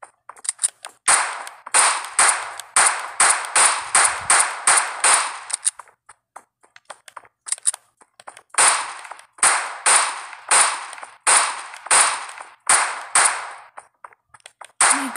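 Gunfire in a Roblox game as spiders are shot in a hotel basement, with rapid bursts of sharp game shots, loud and close, in two long strings separated by a short pause.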